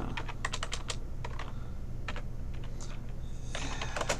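Rapid typing on a computer keyboard entering a telnet command, with clusters of close, crisp key clicks in uneven bursts over a steady background hum.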